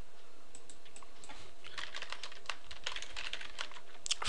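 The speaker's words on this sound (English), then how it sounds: "you type in the name of your business" Keys on a computer keyboard are tapped in a quick, irregular run of clicks as a business name is typed, close and moderately loud with no talking.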